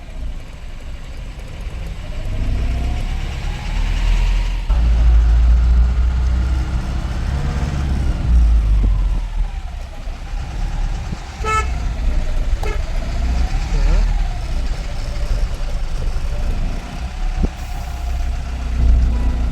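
A truck engine rumbles loud and steady on a Goa to Mumbai journey along Konkan ghat roads, with a short horn toot near the middle and no talking.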